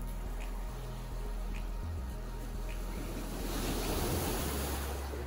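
Waves wash onto the Lake Superior shore along clay deposits with a continuous, rushing surf that swells louder toward the end, mixed with wind buffeting the microphone and no clear talk.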